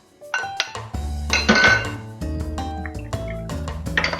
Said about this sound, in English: I'll start cracking my eggs